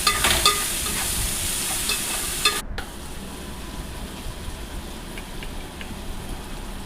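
Turmeric and salt fry in a pan for tomato rice, with a steady sizzle and the scrape of a spoon stirring. Louder at first, then quieter and hissing after a brief cut.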